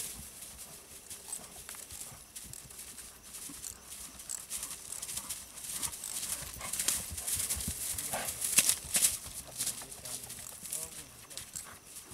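Rhythmic clip-clop of a piebald working horse's hooves, the animal being shown off for work in a jineteada rodeo arena, moderately close amid outdoor noise with some talking over it.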